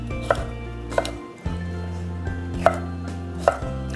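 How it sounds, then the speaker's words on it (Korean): Knife chopping bell peppers on a cutting board in a home kitchen, several sharp separate knocks spaced about a second apart, close and clear over a low steady hum. "피망도 썰어 보도록 하겠습니다."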